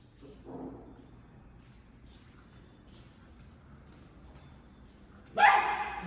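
A dog behind an apartment door in a downtown Los Angeles condominium hallway gives a muffled early bark, then a louder, sharper bark near the end, with quiet stretches between.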